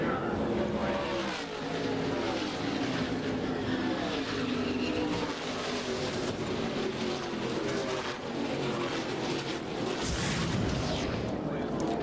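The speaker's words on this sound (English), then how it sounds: "you hear that engine, you hear him staying in the throttle" A NASCAR Busch Series race car engine stays on the throttle with a dense, roaring drone that runs continuously and loudly throughout, with a rough, wavering pitch.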